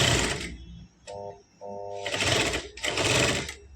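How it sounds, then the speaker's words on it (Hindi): A sewing machine sews the bottom seam of a girl's palazzo in short, loud bursts of rapid stitching, separated by pauses with faint tonal hum and clicks. "अब यहाँ पर हमें एक ये नीचे की सिलाई लगा लेनी है।"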